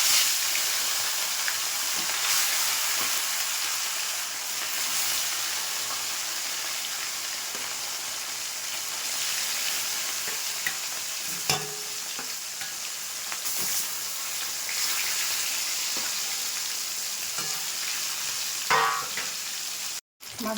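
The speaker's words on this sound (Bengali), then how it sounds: "তেলটা গরম হয়ে গেছে, মাছটা দিয়ে দিচ্ছি।" Pieces of katla fish, rubbed with salt and turmeric, fry in hot oil with a steady, close, dense sizzle and crackle that carries on throughout, broken by a few soft clinks and sharper pops near the end.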